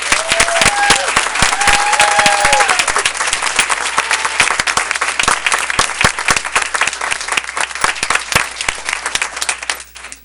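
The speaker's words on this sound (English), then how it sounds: "Please join me once again in offering a huge round of applause for all 6 of our honorees." A school board meeting audience gives sustained, dense applause for six school honorees, the steady clapping filling the room throughout and thinning slightly near the end, with a few brief tonal voice sounds early on.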